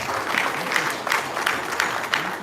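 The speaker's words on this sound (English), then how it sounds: "I think she deserves a round of applause." A crowd at a world press conference by PDP presidential candidates breaks into sustained applause, a dense, steady wash of many hands clapping at moderate volume throughout, with no speech on top.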